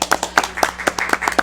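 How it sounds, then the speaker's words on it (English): A few people clapping at a county fiscal court meeting, a brief burst of sharp, evenly spaced claps at close range lasting about a second and a half. "Let's give her a round of applause"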